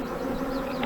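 Springtime honeybees buzz as a beekeeper shakes them off hive frames, a dense, steady, close swarm hum with no voices.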